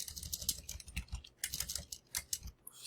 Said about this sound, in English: Sorry, I can't type when the camera's on.